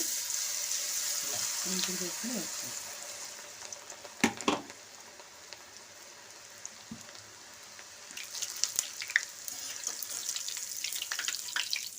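Chilli bajji batter dropped into hot oil, sizzling and crackling up close, with a sharp burst midway and denser spattering toward the end, while a voice is faintly heard early on.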